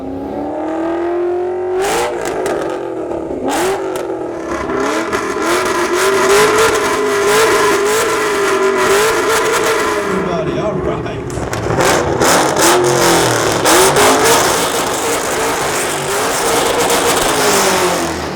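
A Roush RS3 Mustang at a car show revs loudly nearby, the engine note climbing and falling through several sustained pulls while a man calls out over it and the crowd responds.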